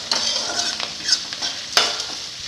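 A spoon scrapes and stirs red rice kozhukattai dough in a pan, with soft sizzling and a few sharper clinks against the metal, close and fairly quiet.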